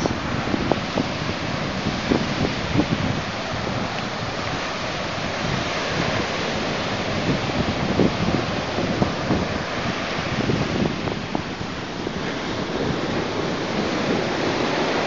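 Ocean surf rolls in steadily at Delray Beach, Florida, a continuous broad wash of breaking waves with wind buffeting the microphone throughout and no voices.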